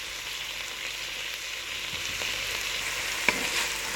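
Egg fried rice with peas stirred in a frying pan, a steady close sizzle with soft scraping of the spatula and one sharp clink near the end.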